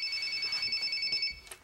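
A mobile phone ringtone rings steadily and clearly on its own in a quiet domestic setting, its tones held for over a second before cutting off.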